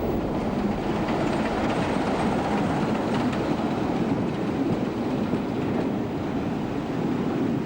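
A British Rail Class 27 diesel locomotive, number 27026, arrives at Dundee with a passenger train from Edinburgh in 1986, giving a continuous loud rumble of engine and rolling wheels with no voices.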